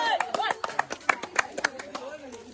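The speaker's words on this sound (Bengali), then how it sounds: "সজীবের জন্য হাততালি সবাই করে" A group claps for Sajib after a prize game where a glass is pulled from under a tissue. Sharp, separate claps come in an uneven rhythm beneath lively nearby talk.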